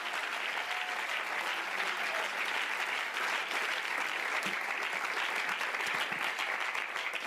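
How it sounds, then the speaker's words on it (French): Congregation applauding during a French-language church service: long, even, continuous clapping from a large crowd, somewhat distant and unbroken from start to finish. "Donnez-lui une acclamation."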